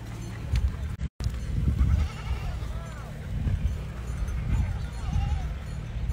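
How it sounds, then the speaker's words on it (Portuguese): Sheep bleating in a rural backlands farm setting as the flock is let out to the field, several wavering calls scattered across the clip amid outdoor ambience and low rumble, with someone talking over them. "Soltar as ovelhas aqui pra roça."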